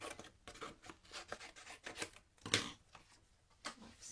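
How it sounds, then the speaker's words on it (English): Scissors cut down a piece of white card for paper crafting, giving quiet, close snips and rasping slices in an irregular run, with one louder snip near the middle. "I'm just going to cut this piece of white card down."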